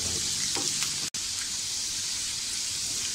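Garlic sautéing in a hot pan for egg bhurji, giving a steady close sizzle and crackle throughout, with a brief drop to silence near the start.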